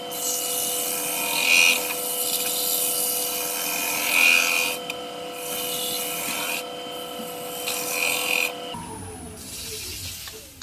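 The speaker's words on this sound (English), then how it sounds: "I'm going to sand it back to 600." A wooden tornado bowl is sanded back to 600 grit on a spinning lathe, a steady close rasping rub that swells in repeated passes over a constant motor hum, with no talking.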